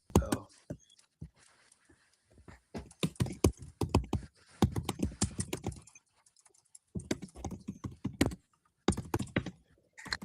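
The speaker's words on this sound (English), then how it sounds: "Justin, I see you typing" Someone types on a computer keyboard in bursts of soft, rapid key clicks, pausing between runs, heard fairly quietly and without voices over it.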